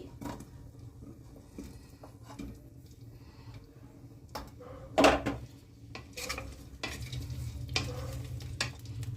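Potatoes frying in hot oil for a vegetable biryani: a steady low sizzle runs throughout, broken by scattered clinks and scrapes of a spoon stirring against the pan, with one sharper clatter near the middle and no talking.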